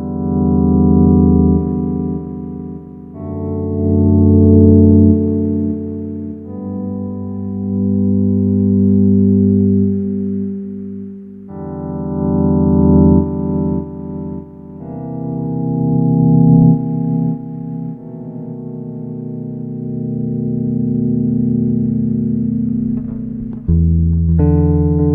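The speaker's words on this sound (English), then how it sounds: "Frank loves to play with volume controls on basses to get rid of the initial attack and just leave these beautiful sustained notes" Bass guitar notes swelled in with the volume control and fed through a Delay Llama analog delay pedal, leaving soft-attack sustained tones that rise and fade in long overlapping waves with no talking.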